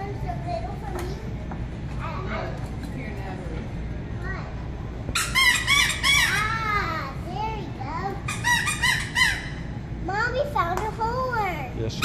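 A bicycle horn squeaks in several short bursts of high squeals amid a busy shop, with children's voices and chatter continuing underneath throughout.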